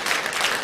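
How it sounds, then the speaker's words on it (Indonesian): Congregation clapping in a church, a dense wash of many hands applauding together at a steady level throughout a brief burst, with no voices over it. "Kita beri tepuk tangan untuk kebaikan Tuhan."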